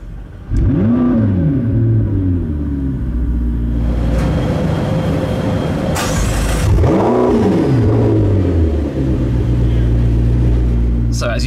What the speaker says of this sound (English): when we put our foot on the brake pedal and start it up, listen out, it will rev a little bit higher than usual and make a very nice sound.